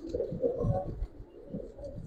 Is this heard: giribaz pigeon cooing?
yes